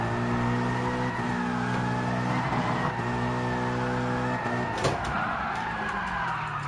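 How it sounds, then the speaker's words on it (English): A race car in Gran Turismo Sport coasts along in neutral, its steady engine drone holding a low tonal hum with faint tire noise throughout, loud and continuous with no voices. "Look how long you can just glide in neutral."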